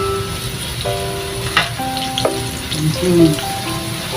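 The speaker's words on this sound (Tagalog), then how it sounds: "Okay, so this one, second fry natin siya para maging golden brown na siya." French fries sizzle in hot oil during their second fry at home, a steady close crackle with a few sharper pops and faint tonal background sounds.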